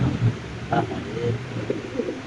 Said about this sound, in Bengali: লাহরি কবুতর আপনি দেখতে পাচ্ছেন